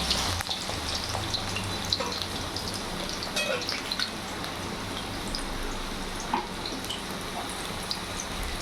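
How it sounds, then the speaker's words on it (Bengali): Potatoes sizzle in hot oil in a pan for a Bengali muri ghonto, a continuous close crackling fry with scattered pops and light stirring, no voices. "তেল গরম হয়ে গেছে এখন আমি আলুটা ভেজে নেব আলুটা লাল লাল করে ভাজবে"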